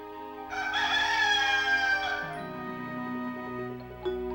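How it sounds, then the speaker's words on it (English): A cartoon rooster crows a full cock-a-doodle-doo, loud and close, lasting about two seconds. A soft musical backing carries on after it fades. "The rooster does. Cock-a-doodle-doo, he sings."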